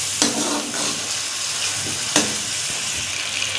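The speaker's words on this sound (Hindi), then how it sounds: "अभी मिक्स कर लेते हैं अच्छी तरह और इसको थोड़ी देर फ्राई करेंगे।" Ginger garlic paste frying for dal in a highway hotel style kitchen, a steady loud sizzle and hiss with a couple of brisk stirring scrapes, close and with no talk.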